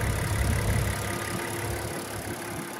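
Steady, dense engine hum from a 2023 Lincoln Nautilus Black Label with a 2.7-liter twin-turbo V6, running at an even idle-like drone throughout, close and moderately loud with no speech.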